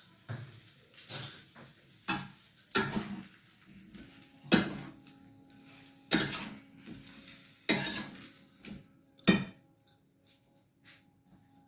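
Tomatoes being stirred in a pan while Bengali-style tomato, date and mango-leather chutney cooks, giving intermittent spoon-and-pan clinks and scrapes in short bursts at close range, with no talk.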